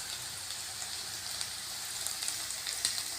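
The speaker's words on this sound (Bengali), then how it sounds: "আলু ভাজছি" Potatoes fry in a pan for a home-cooked lunch, giving a soft, steady hiss and crackle of hot oil, fairly quiet and close, with no talking.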